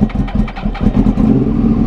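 A Yamaha R1 sport motorcycle engine runs loud and close after a cold start, its rough idle pulsing with short revs.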